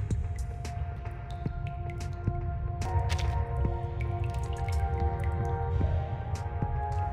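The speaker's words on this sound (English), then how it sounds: "Water keeps dripping down from the side of the ceiling near the window" Water drips from the side of a ceiling near a window in the game Reverse: 1999, scattered soft plinks and squishy drops at an uneven pace over a quiet hum with a few faint tonal notes, and no one talks.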